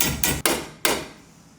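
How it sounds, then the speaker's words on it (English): An aluminum piece is bent in a vise clamped to a truck frame, giving three sharp, loud metallic knocks spaced unevenly, each ringing out briefly before fading. "let me bend this real fast and then we'll pop it in there"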